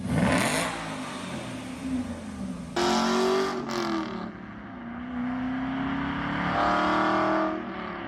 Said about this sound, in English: It is known for having one of the best sounding V8s out there